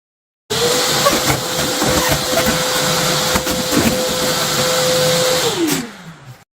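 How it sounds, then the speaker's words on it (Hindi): An American Micronic 1600W wet and dry vacuum cleaner sucks up paper, its loud steady motor roar holding a constant whine before winding down at the end, with no talking. "इसने सारे सारे पेपर को अंदर खींच लिया है"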